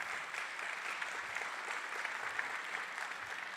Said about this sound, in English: applaud for that